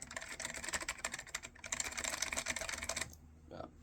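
Fast, steady typing on a Strong Man SMK-8112 keyboard with Matias Quiet Click switches gives a dense stream of soft, close clicks that stops abruptly near the end.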